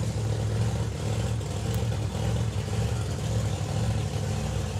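An LS turbo door-slammer drag car runs down the strip with a dense, steady engine roar heard from a distance, continuous and unbroken.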